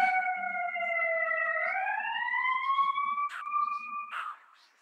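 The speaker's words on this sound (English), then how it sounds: "I'll just wait until the siren goes by." An emergency vehicle siren passes outside a hearing room, its rising wail clear but somewhat distant, sliding upward in pitch and then fading out, with no speech over it.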